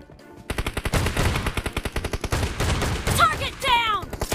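A shotgun in the mobile battle royale PUBG Mobile fires a rapid, evenly spaced string of loud, sharp shots, followed by a few scattered bangs and ringing effects near the end.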